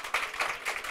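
A seminar audience gives a short burst of applause to thank a guest speaker. The clapping is dense and even, of moderate loudness, and lasts under a second.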